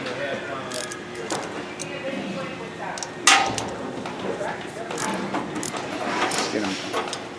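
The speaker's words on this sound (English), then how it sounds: "Get them tightened down. Not putting a lot of torque on them." A ratchet tightens bolts on a Baldor 2HP electric motor during a bearing repack, making quick close clicking bursts and metallic clinks with a sharp clank partway through, while someone talks over it.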